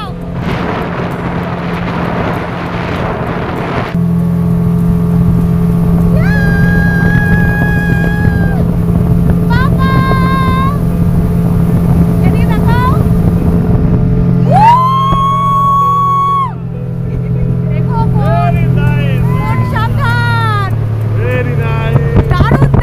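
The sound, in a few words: speedboat ride on Maithon dam reservoir water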